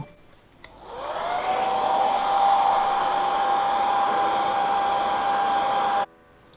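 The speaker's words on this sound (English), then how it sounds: "Use a hair dryer just to give it a bit of a dry off." A hair dryer on gentle, cool heat blows over the inside of a freshly painted pink Proline VW Bug Baja body for a Traxxas Slash 4x4, switching on after a click and running as a steady, loud whine before cutting off.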